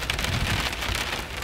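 Heavy rain from a lightning storm drums steadily on a vehicle parked overnight in a Walmart lot in British Columbia, a dense close patter with no pauses and no voices.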